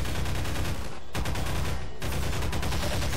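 Rapid automatic gunfire in Half-Life 2 during a combat fight inside Nova Prospekt, loud dense bursts with two brief gaps between volleys and no talk.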